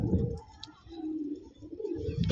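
A pigeon coos softly a few times close by, low and throaty, with faint background noise between the calls.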